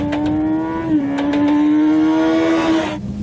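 A motorcycle engine drones loudly and steadily as the bike accelerates out of a corner, its pitch holding high with a slight dip and rise before easing off at the end.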